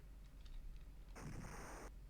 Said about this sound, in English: Ah, yes, that generic explosion sound.